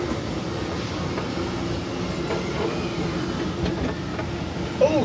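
Rumbling ride-system train effect with a steady low clatter on the Postman Pat Parcel Post Ride at CBeebies Land, Alton Towers, continuous and fairly loud with a faint click near the end.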